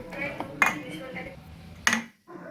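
A utensil scrapes and clinks against a bowl while thick batter with powdered milk is mixed, with two sharper metallic knocks and a soft voice speaking in the background.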